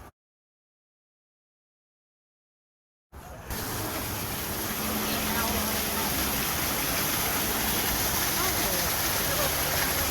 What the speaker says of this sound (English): Waterfalls galore.